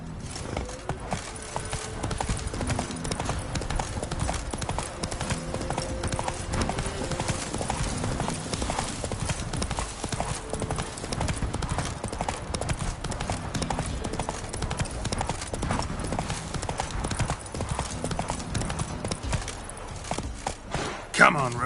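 Roach, the horse in The Witcher 3, gallops in the game with a steady, dense rhythm of hoofbeats, loud and continuous over ambient game sound, with an occasional snort or whinny.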